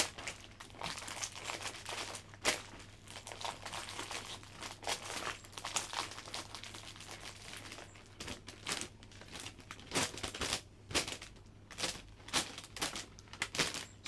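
Clear cellophane crinkles and rustles close by as a hand-tied Christmas flower bouquet is wrapped, giving irregular crackling bursts and soft crunches that come and go steadily throughout.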